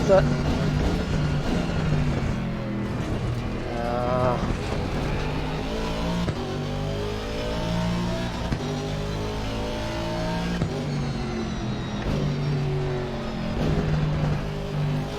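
Aston Martin GT3 race car lapping Monza in Assetto Corsa Competizione, its engine droning steadily with rising and falling revs through gear changes, loud and continuous, with talking over it.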